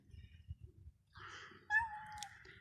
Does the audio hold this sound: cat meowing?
yes